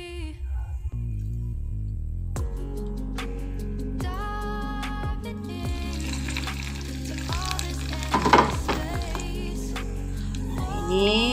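Onions frying in hot oil for sambal, a steady close sizzle with occasional stirring scrapes, over a continuous low background hum.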